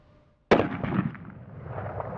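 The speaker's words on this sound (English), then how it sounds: "I'm going to go ahead and shoot one off here." A single sharp, loud rifle shot from a scoped Savage rifle cracks out of near silence, followed by a rolling echo that slowly fades.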